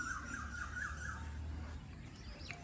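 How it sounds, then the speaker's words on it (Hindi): A koel sings faintly around a village house during heavy rain and flooding, its wavering call carrying over a steady background rumble. "कोयल घर की चारों तरफ घूम रही है और गुनगुना रही है बस।"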